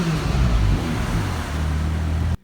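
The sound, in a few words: McLaren 570S Spider engine revving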